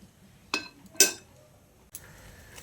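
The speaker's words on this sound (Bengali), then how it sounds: "তো এখন একটা ঢাকনা লাগিয়ে সয়াবিনটাকে সেদ্ধ করে নিচ্ছি।" A metal lid set onto a pot of boiling soybeans: two sharp clinks close together, then a softer rattle a moment later, close by and otherwise quiet.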